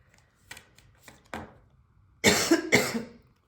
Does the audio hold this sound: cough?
yes